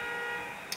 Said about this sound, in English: the irony is that we have like a car alarm going off in the background